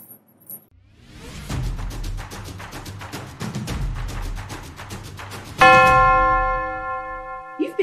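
A bell rings in a rapid run of strikes, then one loud strike leaves a long, ringing, sustained tone that slowly fades.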